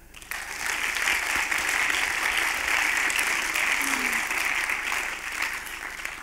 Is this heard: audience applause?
yes